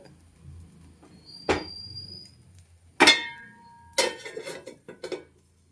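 A lid set onto a cooking pot in a home kitchen gives several sharp metallic clangs and rattles, one around the middle and a cluster near the end, each ringing briefly in otherwise quiet surroundings.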